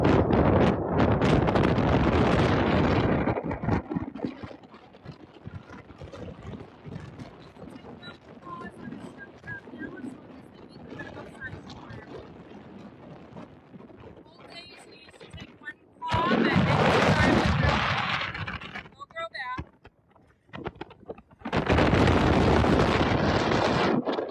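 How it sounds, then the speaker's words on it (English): Strong wind blows across a boat out lobster trapping in the Florida Keys, roaring loudly in heavy bursts at the start, middle and end, with quieter gusty stretches between where a voice talks. "Sorry, Sylvia, the wind's real bad."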